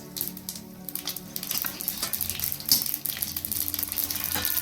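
Mustard seeds splutter in hot oil during tempering for a gourd muthiya dish, a dense close sizzle with rapid crackling pops that grows louder and busier partway through.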